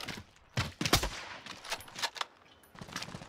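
Gunfire in the Warzone video game, a scattered burst of several sharp shots at moderate distance within the first half, followed by quieter intermittent cracks.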